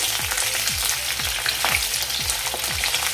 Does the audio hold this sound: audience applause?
no